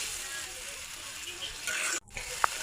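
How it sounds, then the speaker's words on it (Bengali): Stinging catfish tipped into a pan of curry gravy gives a steady close sizzle and frying hiss, broken by a brief drop and then a small clink. "এবার হচ্ছে এই ঝোলের ভিতরে মাছটা ঢেলে দিব।"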